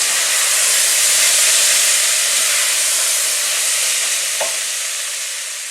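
Onions and celery sweating in a soup pan while being stirred, giving a loud, steady close sizzle and hiss with a single small clink near the end.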